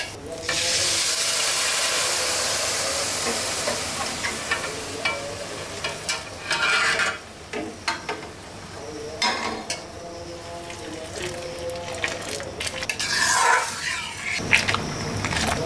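Semai vermicelli fries in a pan with a bright, continuous sizzle, broken by repeated stirring and scraping that come in uneven bursts throughout.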